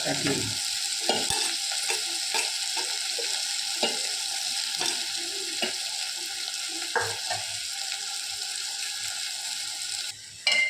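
Masala sautés in a pan on a low flame with a steady oily sizzle, broken by repeated scraping and stirring strokes from a spoon, close and alone without any talk.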